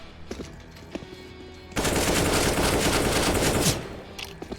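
AK rifle fire in Counter-Strike during an amateur league match: a few scattered shots, then a dense, loud sustained burst of rapid automatic gunfire lasting about two seconds, followed by trailing single shots.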